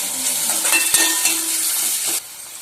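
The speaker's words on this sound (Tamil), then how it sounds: "இது கூடவே சேர்த்து நல்லா வதக்கி விட்டுக்கலாம்." Ginger and garlic sautéing in a pan for bread masala, a steady close sizzle with scraping stir strokes and a spoon clink against the pan, running continuously before cutting off near the end.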